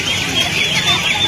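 Chickens cluck amid the steady hubbub of a busy poultry market at Uluberia, Howrah, with soft, continuous calls sitting under general crowd noise and nearby voices.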